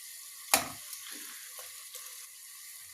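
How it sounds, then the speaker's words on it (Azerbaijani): Meat and onions fry in a pan for a chicken çığırtma, with a sharp stir or clatter near the start followed by a steady sizzle and a few light scraping touches. "Qəşəng biraz da ətlə qovrulacaq və ətimiz də soğutma pişdi"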